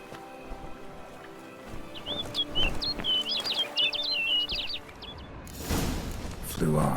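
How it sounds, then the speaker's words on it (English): Bird in The Witcher 3: Blood and Wine gives a burst of quick bright chirps and tweets over a couple of seconds, moderately close, with faint clip-clop and ambient game noise beneath. "Looks like the bird's leading me somewhere."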